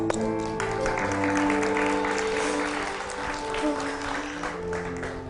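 Audience applause for Risti in a studio setting, a steady wash of clapping sustained across the whole stretch with a faint musical backing underneath and no voices standing out.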